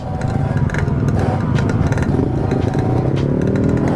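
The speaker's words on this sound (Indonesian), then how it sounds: "kita biar anget dulu motornya" A motorcycle engine idles loudly and steadily while warming up, a close, continuous rumble with some mechanical clatter throughout.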